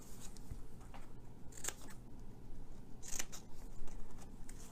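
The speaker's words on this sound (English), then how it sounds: "So we're going to cut in here." Scissors snip through paper box flaps for a Stampin' Up card-and-box craft, giving a couple of sharp, close cuts over a quiet room with no talking.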